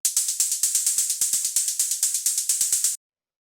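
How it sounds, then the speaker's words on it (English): Synthesized techno hi-hats built with an Operator synth, crisp bright ticks in a fast steady sixteenth-note pattern with slight accents, played alone and close for about three seconds before stopping. "next thing we got here are these hi-hats"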